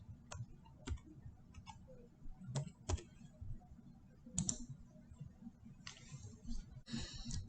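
An OTP is typed on a computer keyboard. Scattered, quiet key clicks come singly and in short clusters, close to the listener, with no talk.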